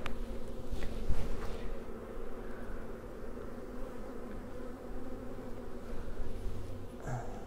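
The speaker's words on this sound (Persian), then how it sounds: "بریم سراغ تکوندن زنبورا" A dense swarm of honeybees is shaken off hive frames, their buzzing a steady, fairly quiet drone with occasional louder passes close by and faint handling knocks. No one speaks.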